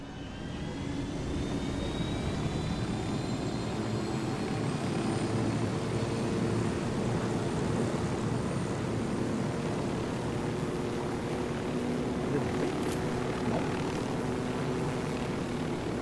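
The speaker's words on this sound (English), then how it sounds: "Fucking helicopter even landed." A helicopter's engine and rotor drone steadily and loudly throughout in the video game Ghost Recon Wildlands, an unbroken mechanical roar with a faint high whine.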